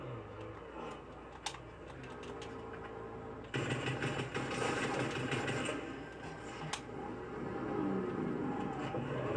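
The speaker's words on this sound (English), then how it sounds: "Oh, they're driving away." A car in a video game drives off, its engine a faint, buzzy whine that swells and grows denser partway through before holding steady, with occasional clicks on top.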